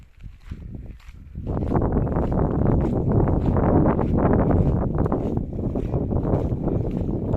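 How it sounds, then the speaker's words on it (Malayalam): Strong wind roars and buffets the microphone continuously at Gandugali Kumara Rama fort in Karnataka, a loud rushing noise after a brief quieter start. "കാറ്റിങ്ങനെ നല്ല ശക്തമായി അടിക്കുന്നുണ്ട് കാറ്റ്."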